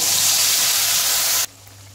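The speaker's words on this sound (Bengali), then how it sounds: "এবার আমি তেলের মধ্যে পেস্ট করে রাখা মশলা দিয়ে দেব।" Spice paste hits hot oil in a pan while cooking an aloo paneer curry with capsicum, producing a loud, close sputtering sizzle that cuts off abruptly near the end, leaving a low hum.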